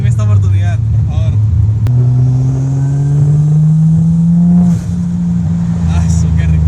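A Toyota Supra MK2 with a turbocharged 1JZ engine revs loudly and close by, its pitch climbing steadily through a long rising pull before settling back to a steady idle, with a sharp click partway through.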